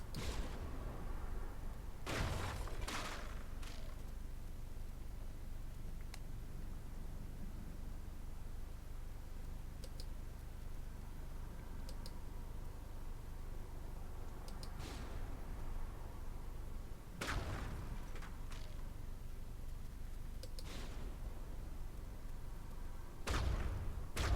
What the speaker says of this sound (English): I better go back to our old routine and just fire the hell out of it.